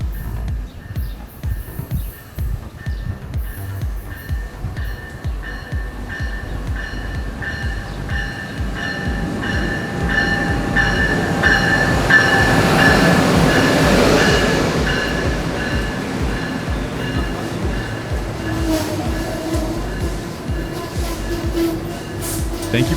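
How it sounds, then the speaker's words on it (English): An Amtrak Keystone passenger train rolls into Lancaster station in Pennsylvania with a steady rumble of wheels on rail and faint metallic squeals, swelling to a peak midway as the cars pass close by, then easing off gradually. "the Keystone glides into the station."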